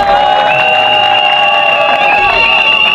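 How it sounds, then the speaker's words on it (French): A crowd of young people at an awareness-raising event applauds and cheers loudly for an agency director, with shouts and whoops over the clapping and a sustained whistle-like tone running through. "applaudissons pour le directeur de l'ONAPE"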